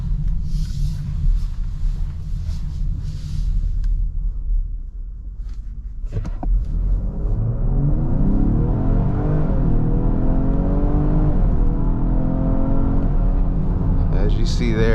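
A 2023 Lincoln Aviator Black Label accelerates from rest to 60 mph in drive, its engine note climbing steadily and loudly from inside the cabin, with a voice speaking over parts of the run.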